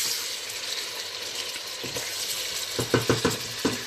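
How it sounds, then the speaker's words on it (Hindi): Mutton frying in a pan with golden-browned onions during mutton biryani cooking, giving a steady close sizzle with several louder bursts of stirring and clinks of utensil against pan toward the end. "प्याज सुनहरा हो गया, गोश्त डाल देंगे और इसको भूनेंगे गोश्त का कलर तब्दील होने तक"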